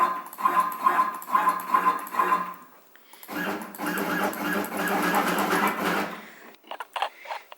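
A CNC router fitted with a 1/8 inch end mill jogs toward its zero position, giving a steady stepper-motor whine in two sustained runs separated by a short pause, then a few brief stuttering moves.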